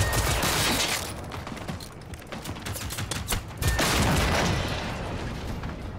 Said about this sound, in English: They're fucking shooting, dude.